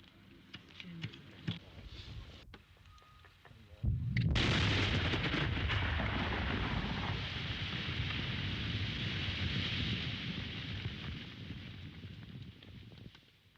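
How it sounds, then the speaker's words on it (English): Blast from 140 pounds of plastic explosives destroying a border road in County Tyrone, Northern Ireland: a sudden heavy boom about four seconds in, followed by a long, loud, roaring rumble that persists to the end. "140 pounds of plastic explosives were enough to destroy this one in County Tyrone"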